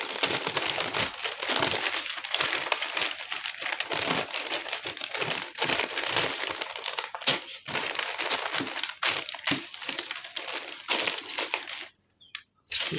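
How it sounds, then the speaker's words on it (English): Stiff pattern paper is handled and folded for sewing a ruffled sleeve, giving continuous loud close crinkling and crumpling that runs almost the whole time, with a brief quiet gap near the end. "You can just hold your pattern paper this way for you to be comfortable with it. So I will need to fold"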